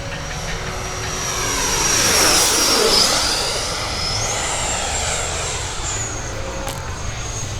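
An E-flite F-16 80mm electric ducted-fan RC jet flies an inverted pass and comes back around, its steady high-pitched whine swelling as it nears, peaking mid-pass, then easing off into the distance.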